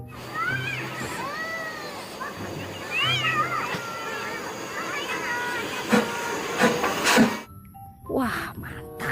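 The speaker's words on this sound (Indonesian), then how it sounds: "ada kereta api Thomas" Thomas toy train giving off hissing and whistling effects with chirpy sliding tones and sharp bursts, loud and close, breaking off abruptly near the end, with a voice talking briefly in the background.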